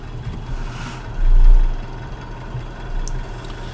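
A tractor engine idles in Farming Simulator 19 after a full day of field work, a steady low rumble that swells briefly louder midway before settling back to its even drone.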